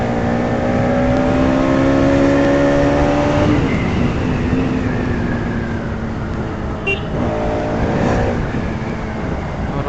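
A motorcycle ridden hard on a morning commute to college, its engine revving loudly and continuously with rising and falling pitch as the rider accelerates and shifts, close and dominant throughout.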